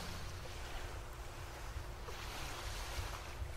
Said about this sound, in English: you are now sailing through a vibrant turquoise sea